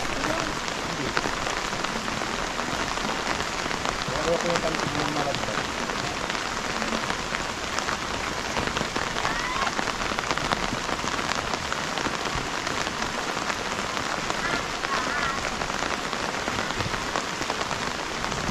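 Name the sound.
light rain falling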